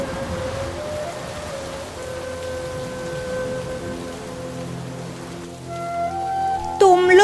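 Rain falls steadily in a forest, a soft continuous patter mixed with sustained tonal sounds and a brief sharp sound near the end.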